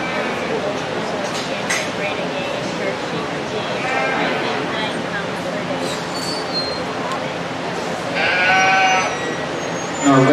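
Sheep bleat in a county fair show ring amid a busy crowd babble and announcer-style talk, with a louder, clearer bleating burst near the end.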